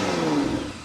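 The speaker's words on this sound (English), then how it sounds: "start it up so you can hear that exhaust note" A 2025 BMW X5 M60i engine fires up with a steady, loud exhaust note that holds a mid-range drone for under a second, with no talking.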